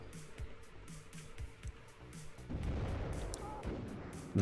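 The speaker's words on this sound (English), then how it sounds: "He's dropping mortars on the area as well." Mortar rounds fall in the Cold War strategy game WARNO. Several muffled thumps come in a spaced rhythm, then a louder, rougher rumble of impacts follows, all fairly close.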